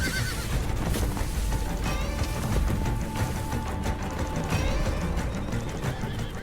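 Sturdy Altay horses bred by herders neigh and whinny amid a busy outdoor scene, with hoof clatter and rustling layered under the calls.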